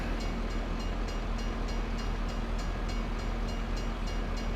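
A train passes a railroad crossing in Farming Simulator 25, heard as a steady, loud rumble with a faint rhythmic clatter repeating throughout. No one speaks.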